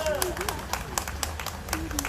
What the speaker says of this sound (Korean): 박수를 쳐도 좋아요